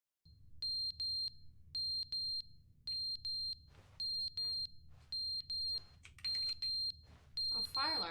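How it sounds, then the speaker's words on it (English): Smoke alarm low-battery chirps in The Stanley Parable video game: a bright electronic beep repeating at a steady rhythm, about every second, over a low background hum, with other game sounds creeping in near the end. "Oh, fire alarm battery died."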